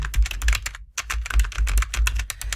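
Rapid keystrokes on a computer keyboard clatter in a steady burst, briefly pausing once before the typing resumes, close and clear with no talking.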